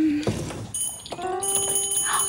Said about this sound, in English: that bell sound again